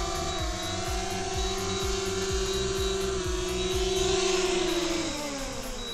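A DJI Mini 2 drone descends to land, its propellers giving a steady, close, humming whine with stacked harmonic tones whose pitch drops toward the end, with no talking.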